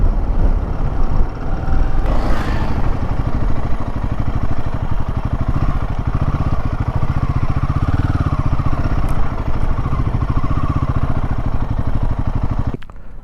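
Royal Enfield Himalayan 450 motorcycle riding along with a steady, continuous engine drone and wind rush throughout, a brief clatter near the start and an abrupt cutoff at the end.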